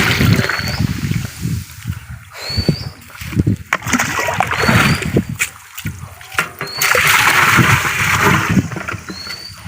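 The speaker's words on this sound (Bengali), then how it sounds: "গোবরে জল মিক্স করা হয়েছে" Cow dung churned with water by hand for homemade fish feed, a continuous wet sloshing and splattering close by with rhythmic squelching surges, faint birdsong chirping in the background.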